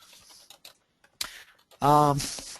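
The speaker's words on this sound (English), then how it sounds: "so I apologize for the typing noise in the background" Scattered light clicks and taps of keyboard typing, uneven and fairly quiet, then a voice briefly speaks loudly near the end.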